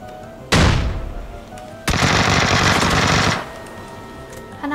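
Video game gunfire: a short automatic burst followed by a longer sustained rapid volley, loud and close, with no talk over it.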